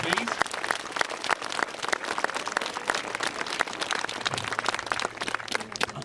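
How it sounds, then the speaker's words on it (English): Crowd applause for school staff at a St George's Day parade event, dense sustained clapping over about six seconds, fairly loud, with some voices mixed in. "So a massive round of applause to the staff of Beckstone Primary, please."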